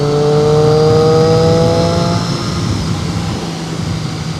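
A Triumph Street Triple motorcycle engine revs hard on an open road, its rising whine climbing through the gears before easing off into a steady loud drone with wind rush.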